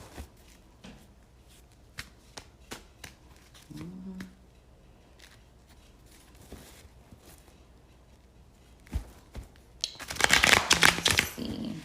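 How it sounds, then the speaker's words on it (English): Oracle cards are shuffled by hand, with scattered soft taps, flicks and rustles over a quiet background, then a louder, dense riffling burst near the end. "Give us a good shuffle, guys, for the month ahead."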